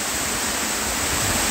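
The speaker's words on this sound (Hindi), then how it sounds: "बड़ा सुंदर फॉल है।" Steady broadband roar of a mountain waterfall beside a hill road just before Gopeshwar in Chamoli, Uttarakhand, loud and continuous with no pauses and no voices.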